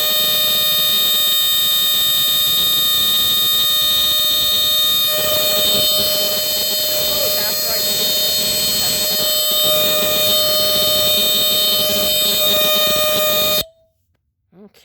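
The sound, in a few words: Entronic Vigilante II ES-7 smoke detector alarm test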